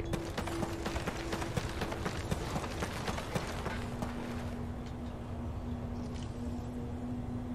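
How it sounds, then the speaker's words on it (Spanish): Rapid footsteps on metal in the video game Modern Warfare 2 on the Scrapyard map in hardcore Search and Destroy, a dense run of sharp clanking steps for the first half, then fading under a steady low hum, with no talk. "Escucho tacones en el metal."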